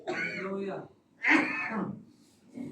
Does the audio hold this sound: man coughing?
yes